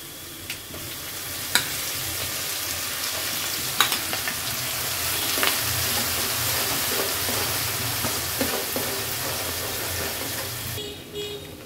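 Ground mustard paste and crushed garlic fry in a pan with a steady, close sizzle. A few sharp clinks of stirring break in now and then, and no one speaks.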